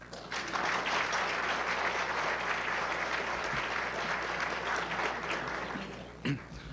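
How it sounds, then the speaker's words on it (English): An audience at a press club luncheon breaks into sustained applause after speaker introductions, a dense, even clapping that holds for several seconds before tapering, with a brief thump near the end. "Now you can applaud."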